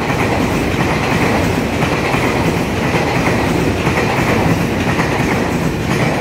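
Puyuma Express tilting train, TEMU2000 series set 2037+2038, running on the Hualien–Taitung line near Ruifang station. Loud, steady close-up roar of wheels on rail with rhythmic clickety-clack over the joints throughout, no voices.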